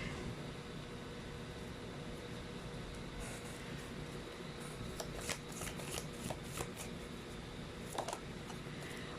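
Tarot cards are shuffled close by in a quiet room, a continuous soft riffling rustle with sharper flicks and card snaps toward the end, over a low steady hum.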